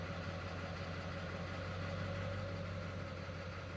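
A 4x4 truck engine running in four-wheel high while the brake is eased off, a steady low rumbling hum with a constant drone, close and continuous with no talking.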